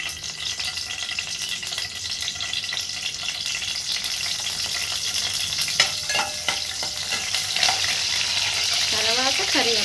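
Green chillies hit hot oil and crackle in a loud, dense sizzle, with spatters and stirring scrapes building toward the end, close up and with no voices.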